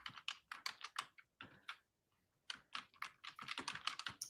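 Someone types on a computer keyboard in quick, close bursts of clicking keys, pausing briefly before typing again, with no talking.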